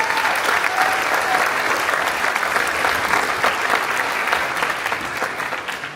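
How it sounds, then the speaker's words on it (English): An audience at a high school concert band holiday event breaks into sustained, even applause, loud and full for several seconds before tapering slightly at the end. "Give them a round of applause."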